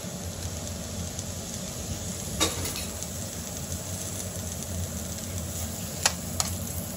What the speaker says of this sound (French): revenir l'ail et l'oignon.